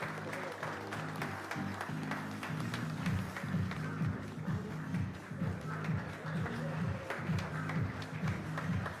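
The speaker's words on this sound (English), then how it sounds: "Come on everybody, give him a huge round of applause." An audience applauds minister Piyush Goyal at the inauguration of ONDC's Enabling Bharat 2.0, producing sustained mid-distance clapping from a crowd that holds steady throughout.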